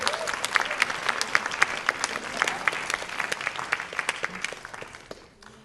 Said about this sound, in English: I think we better give an applause to Esther.